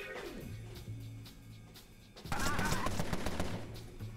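Gunfire from the video game Empire of Sin: several loud shots burst out together in a dense volley partway through, following a quieter stretch of low game background tones.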